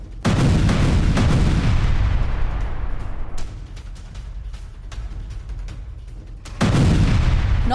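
A heavy blast follows a Ukrainian drone strike, a loud close boom rolling into a long decaying rumble, with sharp cracks scattered through it and a second loud burst near the end.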